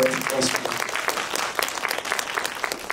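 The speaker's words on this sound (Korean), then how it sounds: "박수 부탁드립니다" An audience at a film screening talk applauds warmly, a loud, full burst of clapping that carries on steadily and thins slightly toward the end, with a few voices beneath it.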